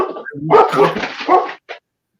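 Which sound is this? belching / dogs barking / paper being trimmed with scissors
dogs barking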